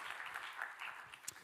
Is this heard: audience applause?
yes